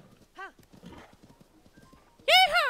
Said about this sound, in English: Yeah, we got a horse!